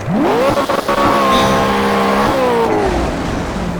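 Race car in Project CARS spinning its wheels under too much throttle: engine revs climb in a rising whine, hold high with tire squeal, then the pitch drops away, loud and close throughout.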